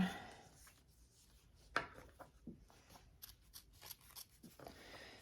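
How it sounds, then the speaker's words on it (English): Sharp scissors cut through fabric for a handmade bag, giving quiet, intermittent snips and soft rubbing scrapes at close range with no talking. "It helps to have a nice sharp pair of scissors when you do this."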